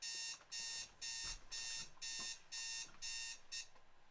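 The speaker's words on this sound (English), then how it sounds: "Sorry, my alarm. I gotta get that." An alarm clock goes off with quick bursts of bright electronic beeping in a steady repeating pattern, about eight rounds, moderately faint, with no talk over it.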